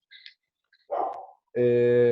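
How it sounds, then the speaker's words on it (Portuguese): A neighbour's Rottweiler barks nearby in a few short outbursts, the last a loud, sustained bark, with no talking. "esse cachorro tá latindo."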